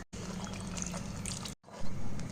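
Water is poured into a pot of dal-free instant sambar as a steady close splash and gurgle, with a brief break before the pouring resumes, alone without talking.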